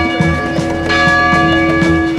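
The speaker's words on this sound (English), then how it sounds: "those are church bells ringing" Church bells at the cathedral on Jackson Square in New Orleans' French Quarter ring loudly, with sustained ringing tones and repeated strikes against faint street ambience.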